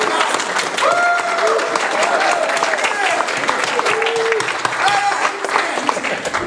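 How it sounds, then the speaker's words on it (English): A church congregation at Sunday worship claps and lets out whoops and cheers, a lively dense round of applause with scattered vocal shouts rising above it throughout. "I want you to start clapping and give a little woo, right?"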